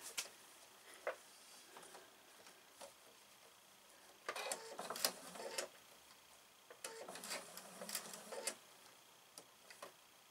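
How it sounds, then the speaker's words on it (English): A sewing machine stitches a pillow cover with a zipper in two short runs of rapid, faint mechanical clatter, separated by quiet ticking and handling sounds. "you can walk the sewing machine like it's not got to be fast"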